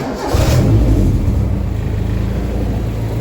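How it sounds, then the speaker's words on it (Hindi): A car engine, in a Mercedes C63 AMG after carburetor cleaning, fires up and settles into a loud, steady low rumble close by, with a brief rising burst near the start. "अब जरा बिस्मिल्लाह पढ़ के गाड़ी को स्टार्ट करते हैं"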